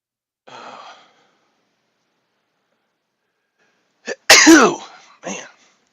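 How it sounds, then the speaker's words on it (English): A brief sharp breath is followed after a pause by a single loud sneeze, close and sudden, trailing off with a small exhale. "that was one of those sneezes that took a long time to get ready to come out"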